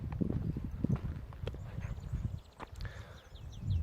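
A horse walks along a beach, its hooves clip-clopping in an uneven, moderately close rhythm over steady background noise, with no voices.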